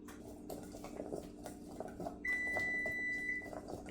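A kitchen oven preheated to 350 Fahrenheit gives a steady high electronic beep lasting over a second, sounding clearly above a busy background of clinking dishes and kitchen clatter.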